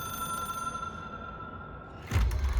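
An old telephone rings in the video game Control, starting abruptly near the end with a loud, sustained bell-like burst that stands out over a steady low background hum.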